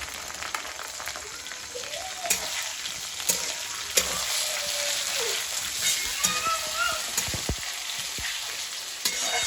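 Chopped onion and tomato fry in a kadhai with a loud, crackling sizzle that runs throughout, dotted with clinks and scrapes of a spatula, while people chat quietly underneath.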